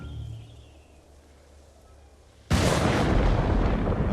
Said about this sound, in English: Set off the signal cannon.